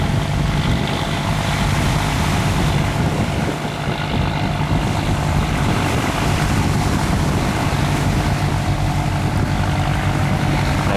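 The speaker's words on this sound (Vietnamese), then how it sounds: "Có một chiếc tàu đó là bự các bạn, đang chạy ra biển nha. Quá trời, cái cẩu này khá là cao luôn. Động cơ nghe cũng rất là lớn nha." Large fishing trawler with a tall crane heading out of a river mouth to sea, its engine giving a loud, steady, continuous low drone with broadband wind and water noise, close and unbroken throughout.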